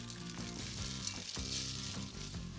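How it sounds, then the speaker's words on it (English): Broken vermicelli sizzles steadily in melted butter in a saucepan over medium heat, a close, continuous crackle with occasional soft stirring scrapes and no voices. "melt the butter in a saucepan over medium heat. Then add the broken vermicelli,"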